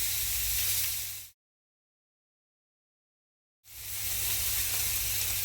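Oiled steaks sizzle on a hot grill in a loud, steady hiss, broken by a couple of seconds of dead silence before the frying resumes just as strongly.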